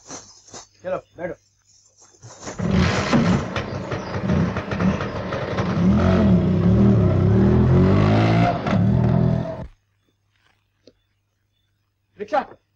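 An auto-rickshaw engine rises loudly and runs for several seconds before cutting off abruptly, with brief voices in a street before and after.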